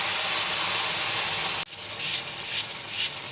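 Hot jaggery water hits roasted rajgira (amaranth) flour in a pan, setting off a sudden loud burst of hissing, steaming sizzle that keeps bubbling and spitting in swells, heard close up.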